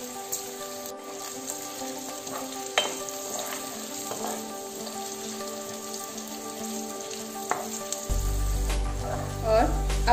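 Whole spices, cinnamon, cardamom, black pepper, dry red chillies, garlic cloves and cumin frying in oil on a low flame for a pea and paneer pulao, a soft, steady sizzle with light crackles, close and fairly quiet, with a low hum coming in near the end.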